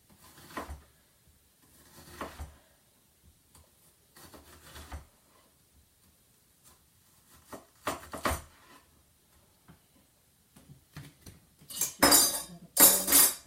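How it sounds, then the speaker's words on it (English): Ginger and garlic going into a curry pan, metal utensils clinking and scraping against the pan in scattered light taps, quiet and close, with a sharper louder cluster of clinks near the end. "I decided to just add in the ginger and garlic"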